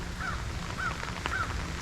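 Three crow caws spaced about half a second apart ring out at moderate distance over steady street ambience in Toronto during rain.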